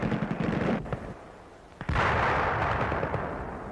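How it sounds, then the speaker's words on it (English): Soviet machine gun fire against a tank turret's thin metal rear storage bin, a loud, dense rattle of gunfire with a brief lull midway before another sustained burst. "A Soviet machine gun opened fire, its rattling bursts impacting the thin metal of the storage bin on the rear of the tank's turret."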